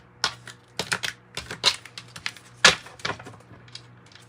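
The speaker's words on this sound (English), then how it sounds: "I just really want to get them shuffled." Rapid bursts of crisp flicking and clacking, tarot cards riffling in quick clustered runs, close and fairly loud, with short pauses between.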